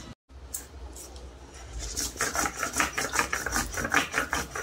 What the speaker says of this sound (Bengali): আমি নিয়েছি এখানে 8-9টা লঙ্কা বেটে নেব